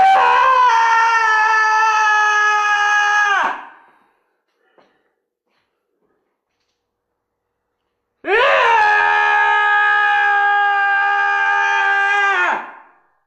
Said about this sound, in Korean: 결국 터져 나오는 비명이죠